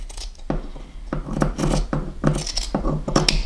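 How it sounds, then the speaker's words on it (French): Scissors trimming excess fabric close to a sewn seam on a small fabric pouch, a series of close crisp snips and rustling cloth in an uneven rhythm, with no speech. "je vais pouvoir enlever le surplus de tissu en faisant attention, bien évidemment, de ne pas découper ma couture"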